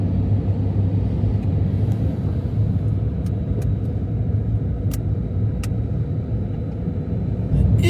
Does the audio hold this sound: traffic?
yes